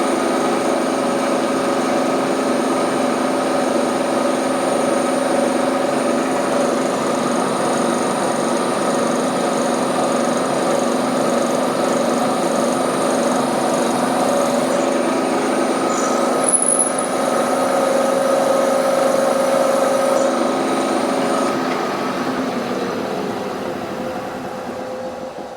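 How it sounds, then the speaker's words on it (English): A drill steadily boring a hole in a steam engine part for a 7 1/4 inch gauge model, a continuous even whir and hum with a brief squeal near the end, no voices. "let's drill another hole in the steam engine"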